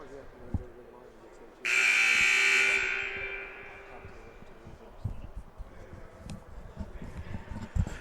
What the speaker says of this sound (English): You heard the buzzer.